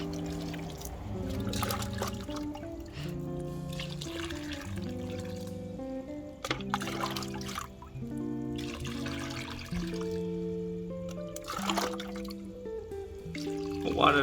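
Water trickles and drips as it soaks down through potting mix in a plant pot, a steady soft dribble with scattered droplets, heard alongside a continuous melodic music bed.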